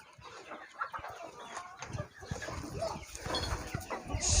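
Chickens on a small poultry farm cluck and chatter in a busy, moderately close jumble of overlapping calls that builds toward the end.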